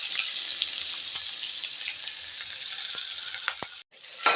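Thinly sliced large onion fries in oil with green chillies, a dense steady hiss of sizzling close up, with a few light clicks of stirring and a brief pause near the end.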